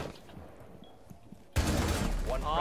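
Gunfire in Rainbow Six Siege: a near-silent stretch breaks into a sudden, loud, sustained burst of rapid shots and crackling impacts that fills the second half.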